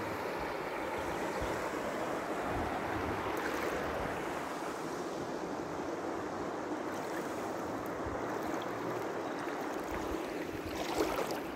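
Steady rushing and splashing of water as someone wades up a shallow river on the GR70 Stevenson trail between Le Pont-de-Montvert and Cassagnas, a constant broad wash with no voices.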